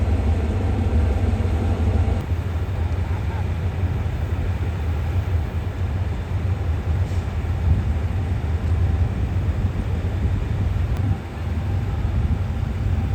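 Steady low rumble of a Thai diesel locomotive idling at Bangkok Hua Lamphong station, constant and loud throughout with a deep droning hum and faint occasional clanks.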